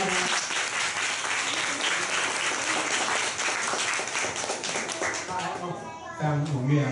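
An audience at a self-introduction meetup claps steadily in dense, continuous applause, with a voice speaking over it and the clapping thinning toward the end.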